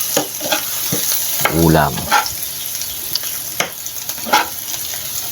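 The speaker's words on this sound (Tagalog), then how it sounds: "Kailangan haluin mo yung sibuyas at bawang" Onion and garlic fry in a pan, stirred with a spatula that scrapes in short strokes over steady sizzling, close up, with a brief spoken word and a loud clatter partway through.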